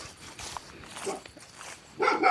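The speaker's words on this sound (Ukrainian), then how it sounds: "Це наш песик лютий" A farm dog named Liutyi in the Carpathian countryside gives a few short, scattered barks, ending in a louder close burst, with no talk over them.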